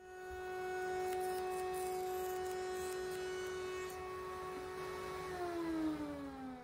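Router fitted with a rabbeting bit whose bearing has worked loose, cutting koa wood: a steady high whine with strong harmonics runs throughout, dropping slightly in pitch near the end.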